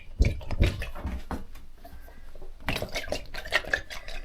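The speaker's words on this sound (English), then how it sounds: "Can you hear the water in the booties?" Water trapped inside the booties of a drysuit sloshes and squelches in a few irregular wet bursts, close by and moderately loud, with soft handling noise between them.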